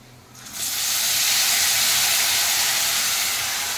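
Tomatoes hit a hot pan for lauki kofta curry and burst into a loud, sudden sizzle that holds as a steady, bright hiss.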